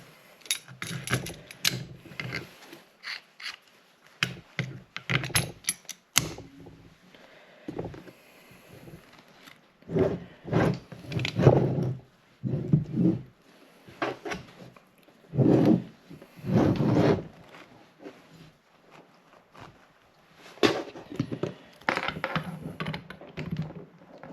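Intermittent mechanical grinding and clicking in irregular bursts, close and fairly loud, as a bearing is pressed into a Subaru steering knuckle without a shop press.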